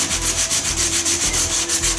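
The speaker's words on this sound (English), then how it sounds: "I start by rubbing the area down" Someone hand-sands body filler on the rear quarter panel of an abandoned Golf GTI under restoration, with quick, even back-and-forth rasping strokes, close and continuous, and no voices.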